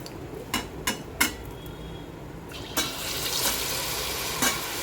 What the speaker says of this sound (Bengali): অল্প আমিও হাতে হাতে মায়ের সাথে ভেজে দিলাম এই দেখো একটা ভাজতে গেছি